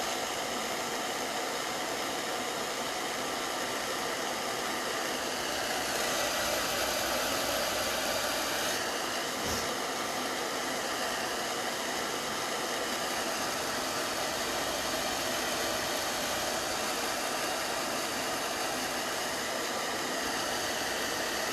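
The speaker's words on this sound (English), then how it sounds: "Hairdryer's coming back on." A hairdryer runs steadily throughout, a loud, constant broadband whoosh with a low motor hum underneath and no talk over it.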